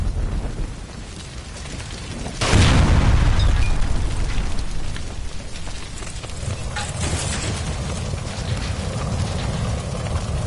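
A gas line by a stove is shot and explodes in the video game L.A. Noire: a sudden loud blast with a deep low rumble after a tense quiet stretch, then a long roaring tail of fire and debris.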